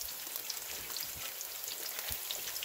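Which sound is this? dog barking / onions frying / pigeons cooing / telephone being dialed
onions frying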